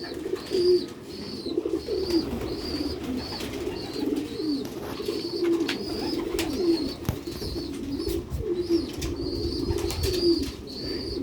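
Sialkot flying pigeons coo steadily and repeatedly close by, low rolling calls over faint outdoor noise, with a few brief wing flaps and no voices.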